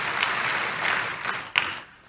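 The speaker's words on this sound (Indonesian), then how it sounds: "Kasih tepuk tangan yang meriah untuk Tuhan Yesus." Steady, fairly loud applause from a church congregation during an Indonesian sermon, continuous clapping for about two seconds with one sharper clap near the end as it tapers off.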